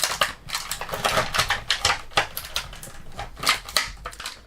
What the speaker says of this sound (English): Gonna have to use the scissors.